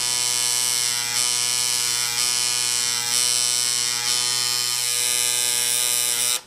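A tattoo machine buzzing steadily while shading black ink, a loud close electric hum with rhythmic swells as the needle moves in short strokes, no voices.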